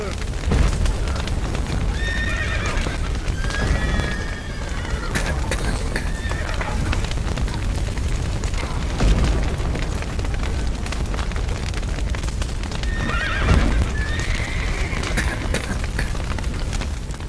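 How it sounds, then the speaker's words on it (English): Horses whinny and neigh a few times amid loud, continuous crackling and rumbling in a chaotic scene from The Witcher 3 video game, with voices shouting underneath. "The horses!"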